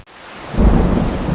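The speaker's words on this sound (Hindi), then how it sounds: "ये बारिश कब रुकेगी? चारों तरफ कितना पानी भर गया है।" Heavy rain pours down with a deep rolling rumble of thunder that swells in loudly partway through, a dense wash of rain noise close and constant underneath, with no talk.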